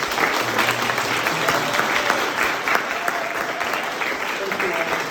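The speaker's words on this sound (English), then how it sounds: "If you could join me one more time in giving a round of applause." An audience at an art and Buddhist practice gathering applauds, a dense, sustained burst of clapping from a room full of people that carries steadily to the end.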